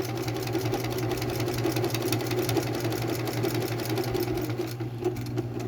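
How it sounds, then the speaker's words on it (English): A sewing machine stitches closed a fabric face mask with elastic inside, humming at a steady mid-level drone with rapid needle clatter for several seconds, close and continuous without speech. "we're going to close this up and we're going to sew over it"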